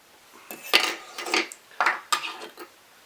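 Small scissors snip off excess tying thread at a fly-tying vise while a nymph pattern is dressed, giving several short, crisp metallic clicks spaced across a few seconds, close and fairly quiet.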